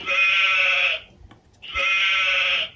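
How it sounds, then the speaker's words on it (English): Two loud, wavering sheep bleats, each about a second long, separated by a short quiet pause. "A sheep."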